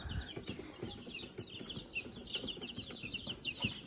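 Homestead chickens, including a barred rock and an Americana, cluck and chatter close by amid rustling and wing flaps, with a continuous scatter of short calls over a faint background.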